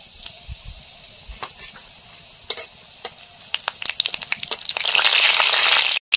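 Dried red chillies frying in oil in a kadai (wok) while a tamarind crab curry is being made, with sharp crackles and pops over a sizzle that swells loud and dense toward the end.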